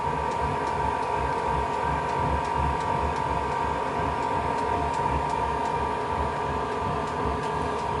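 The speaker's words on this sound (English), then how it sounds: "So that sound is those 2 millilitres of diesel being pumped through" A diesel heater's fuel pump runs steadily, a regular faint ticking over a constant loud whirring hum from the heater as it pumps diesel, with no talk.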